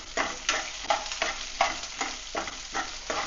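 Onions fry in a pan for a coriander rice dish, a steady sizzle broken by regular scraping stirs roughly every half second, close and fairly loud with no voices.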